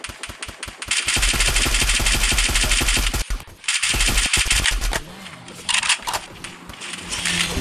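Rapid automatic gunfire in the Free Fire mobile battle game, loud sustained bursts of close shots with short pauses between them, no talking over it.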